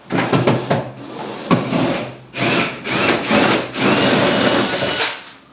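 A power tool backs fasteners out of an upper kitchen cabinet in short whirring bursts, close and loud, with rattling and scraping against the wood between bursts.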